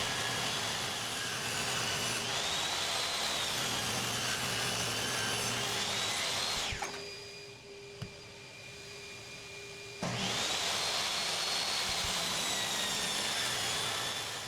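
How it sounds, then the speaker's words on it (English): Table saw resawing a 40-inch wooden board into two 1x4s, the blade cutting with a steady loud whine and rasp, pausing briefly mid-pass before cutting resumes, no talk. "While on the table saw, resaw the 40 inches part into two 1x4s."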